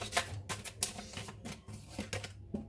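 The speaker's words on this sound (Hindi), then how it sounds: "चलिए और कार्ड निकालते हैं।" Tarot cards being pulled from a deck and shuffled, with a close series of quick papery flicks and slaps in irregular bursts and no voice over them.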